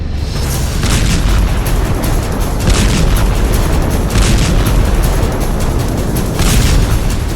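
Blasts from an Israeli air strike, a loud sustained rumble of repeated heavy booms and bursts that swell and fade over several seconds, with no voices.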